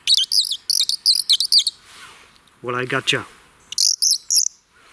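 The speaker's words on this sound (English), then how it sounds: "this tiny instrument right here, the Audubon Bird Caller." An Audubon bird caller, a tiny handheld instrument, gives bursts of sharp, squeaky high chirps, close and loud. A brief spoken remark breaks in midway before another run of chirps.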